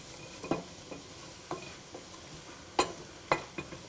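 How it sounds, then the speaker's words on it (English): Onions stirred in a cooking pot while they fry, giving a series of short scraping, clattering strokes at irregular intervals over a soft background sizzle, with no talking. "While we give this pot of onions a very quick stir."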